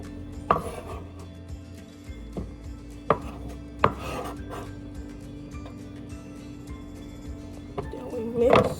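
Knife chopping food on a board while making a healthy snack, a scattered series of sharp taps spaced a second or so apart over a quiet background, with a clatter and faint voices near the end.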